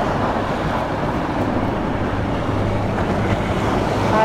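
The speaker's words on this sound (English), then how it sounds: "Oh, here comes the tide." Incoming tide on the River Thames foreshore: a steady, loud wash of water and small waves with wind rushing over the microphone, continuous throughout.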